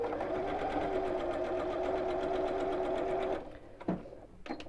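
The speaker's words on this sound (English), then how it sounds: "we'll sew these 2 right sides together first of all" Sewing machine stitching two fabric pieces right sides together for a quilt block, a steady rapid whirring run for about three seconds before stopping, followed by a few soft handling clicks.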